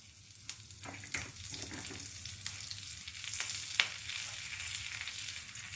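Curry leaves, green chili and asafoetida sautéing in coconut oil for coconut rice, a steady close sizzle with scattered pops and stirring scrapes throughout, no talk.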